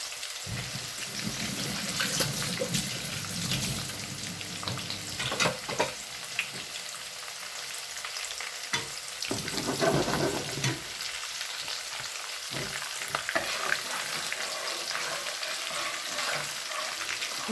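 Chopped red and white onion fries in a pan, a steady broadband sizzle with crackling bursts and occasional stirring clatter throughout, fairly close and without voices.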